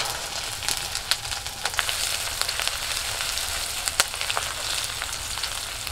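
Crushed ginger, cracked cardamom pods and a bay leaf hitting hot oil, giving a loud, continuous crackling sizzle with sharp spits and pops throughout, no voice present.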